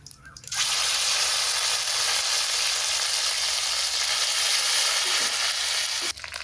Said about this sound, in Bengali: এখন বাটা মশলা দিই, পেঁয়াজ, কাঁচা লঙ্কা, আদা বাটা।